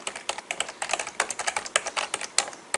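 Quick, uneven clatter of computer keyboard keys pressed one after another at close range, crisp and clear with no voices.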